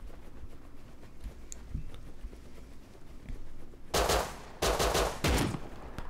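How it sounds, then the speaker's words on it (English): Gunfire in the survival game Rust: after quiet rustling footsteps, three loud bursts of rapid shots ring out close by in quick succession. "Oh, I just got shot in the back."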